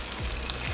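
Cinnamon raisin French toast sizzling in a pan just after being flipped, a brief soft fizz with two small clicks of a utensil.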